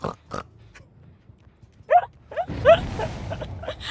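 A streamer lets out a loud, pig-like snort, a voice imitating a pig, after a few short nasal grunts; the snort is a brief, noisy burst followed by rougher breathy sounds.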